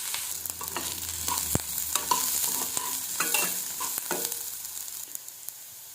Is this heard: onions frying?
yes